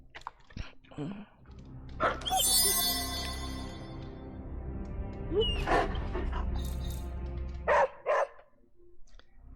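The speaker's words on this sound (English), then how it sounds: "I see my doggy." Pet dog in the video game Marvel's Midnight Suns giving a few short yips and whimpers in bursts near the start and end, with a low steady game background beneath.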